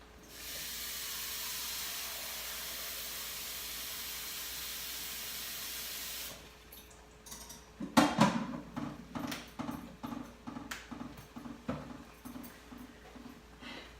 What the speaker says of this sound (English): I'm gonna take this pot and I'm gonna go rinse it out in the sink